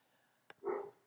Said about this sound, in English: Sorry about the dog. Hopefully you guys don't hear that in the background.